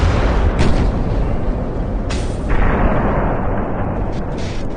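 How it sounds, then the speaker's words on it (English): Naval guns fire at a battleship in a warship video game, a steady roar of distant booms and bursts layered over continuous rumbling battle noise, with no voices. "Alright, so we're shooting at this battleship."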